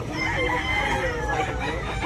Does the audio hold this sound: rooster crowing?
yes